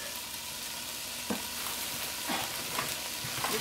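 Spices cooking in a pan for a vegan callaloo stew give a steady, moderately quiet sizzle, with a few soft clinks or stirring knocks rising above it near the end.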